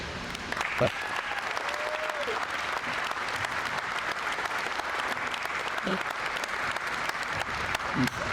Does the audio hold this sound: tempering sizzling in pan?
no